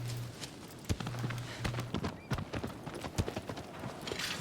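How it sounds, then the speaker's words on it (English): Horse hooves clip-clopping at a steady run in a video game, with a low hum under the rhythmic thuds and a brief whinny-like call, moderately loud and close. "Everyone loves Aggro. It's the best horse."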